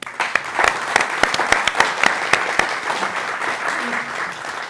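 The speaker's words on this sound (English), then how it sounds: "we should give ourselves a round of applause" Audience applause at a community campaign kickoff event, a steady wash of many hands clapping with some sharper individual claps standing out, holding at a fairly even level throughout.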